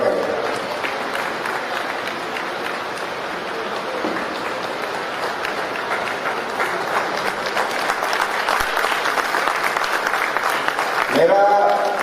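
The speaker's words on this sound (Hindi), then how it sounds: "संघमित्रा खड़े होकर लोगों को अभिवादन करें और हम उसका ताली बजाकर स्वागत करें।" An audience at a national Buddhist vihara convention's closing session applauds to welcome Sanghamitra, sustained, dense clapping from a large crowd that carries on steadily for the whole stretch.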